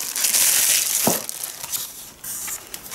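Plastic bag around a Kitfort KT-627 kettle stand crinkles and crackles loudly up close, in bursts of rustling with brief pauses between handling.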